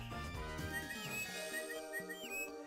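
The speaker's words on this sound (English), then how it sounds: "and you hear that whistling" Whistling calls of the NiGHTopia creatures in the Sega Saturn game NiGHTS into Dreams: several short rising and falling whistles, spaced apart, over sustained game music, faint and without speech.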